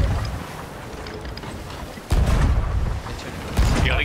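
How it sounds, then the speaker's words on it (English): Galleon cannon shots in a naval video game fight near a fort, with two heavy booming blasts landing over a constant wash of wind and sea noise, the second arriving about a second and a half after the first. "Galleon's having shots at us"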